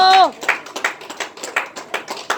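A church congregation clapping hands in unison at a prayer service: a brief voice, then a steady, rhythmic run of sharp claps.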